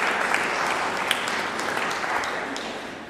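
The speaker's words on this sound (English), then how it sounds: "please give her a round of applause for that" Steady applause from a church recital audience, a dense, even wash of many hands clapping close by that holds throughout and tapers slightly at the end.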